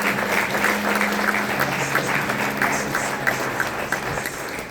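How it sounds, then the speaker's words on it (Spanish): Church congregation applauding loudly and steadily, a dense continuous clapping that holds throughout, with faint voices and a low sustained tone underneath. "Dale un fuerte aplauso a Dios."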